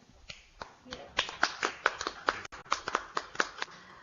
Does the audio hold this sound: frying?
no